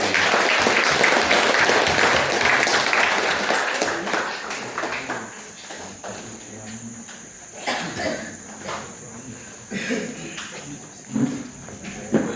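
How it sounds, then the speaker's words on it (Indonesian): A church congregation at a wedding vow renewal applauds the couple, loud clapping at first that thins into scattered claps and faint room noise, with a thin steady tone in the background. "dukung mereka dengan tepuk tangan"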